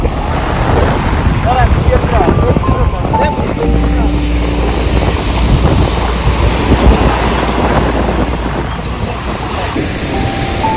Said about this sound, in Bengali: শুধু বাতাসের শনশন শব্দ আর সমুদ্রের গর্জন।